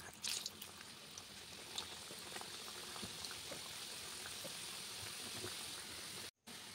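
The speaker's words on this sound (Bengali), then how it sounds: "এবারে বাকিগুলোকেও ভেজে নেওয়া যাক" Gujiya fry in hot oil with a faint, continuous bubbling sizzle and scattered small pops, steady from start to finish apart from a short break near the end.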